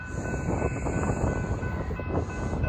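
A Norfolk Southern freight train rumbles past at close range in Toccoa, Georgia, its steady, dense roar of railcars continuing without pause and a brief squeal near the end.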